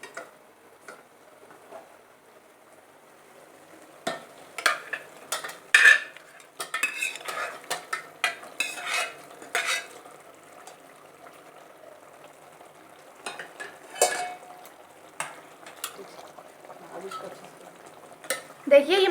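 A spoon scrapes and clinks against a pot as boiled mutton is stirred into thick spice masala for mutton dalcha, with irregular bursts of stirring and a faint sizzle underneath.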